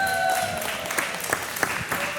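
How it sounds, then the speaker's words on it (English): A crowd applauds in a steady, fairly loud burst of clapping lasting about two seconds, with a few sharper claps standing out and no voices on top. "And the crowd went wild."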